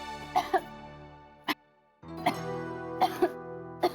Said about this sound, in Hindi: खांसी कर रही है वो, जल्दी जाओ